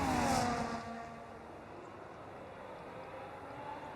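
Formula 1 cars from the F1 25 racing game on the straight at Bahrain, a high engine whine sweeping down and fading, then a steady quieter whirring drone with no talk.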